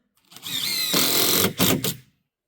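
A power drill drives screws into a wooden firewood storage rack in a workshop: a short whir rises in pitch, then gives a louder grinding burst and a few brief pulses as the screw seats.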